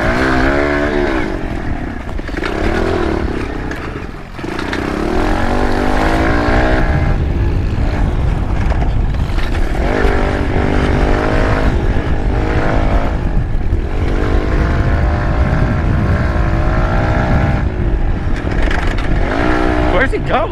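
A pit bike engine runs loud and continuous while being ridden, droning and revving unevenly with rattling, and voices talk over it.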